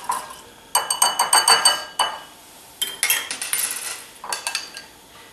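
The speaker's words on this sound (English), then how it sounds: "we're gonna add our dressing. Just give that a quick little whisk." Salad dressing is whisked in a bowl with rapid rhythmic clinking and scraping, in three bursts separated by brief pauses, close and fairly loud with no talking.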